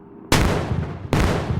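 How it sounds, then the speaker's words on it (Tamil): Two heavy broadband blasts of a rocket launcher fired in a zombie video game, each a sudden loud boom with a long roaring tail, the second following under a second after the first. "நமக்கு ராக்கெட் லான்ச் எடுத்து சுடுவோம்."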